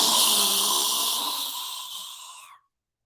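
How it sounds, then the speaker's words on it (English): A deep, steady inhale through the nose during a breathwork exercise, close and airy, holding for about two and a half seconds and gradually easing before stopping abruptly into silence. "Inhale through your nose"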